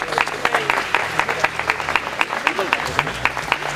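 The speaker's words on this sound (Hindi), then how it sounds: "मैं चाहता हूं कि आप सब अपने लिए जोरदार ताली बजाएं" A protest crowd outside the Pakistani Embassy in the Netherlands claps together in a steady, rhythmic beat, sharp regular claps close by, with some voices and crowd murmur mixed underneath.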